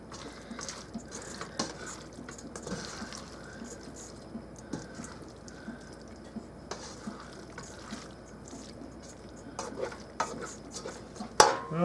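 A utensil stirs buttery noodles in a pot, with soft wet squishing and occasional scrapes and clinks against the metal over about twelve seconds, close and fairly quiet, ending in a sharper clatter.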